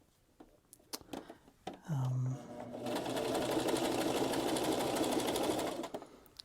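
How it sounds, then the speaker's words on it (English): A sewing machine stitches fabric for a homemade baby bouncer. A brief whir is followed by a sustained, steady mechanical hum of stitching, with soft talk and handling noises before it starts. "Okay, so we have finished the sewing"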